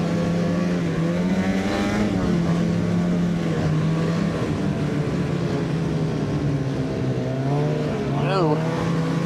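A Freeride 800 snowmobile runs along a bumpy early-season trail, its engine holding a loud, steady close drone with slight pitch swells and a rising whine near the end.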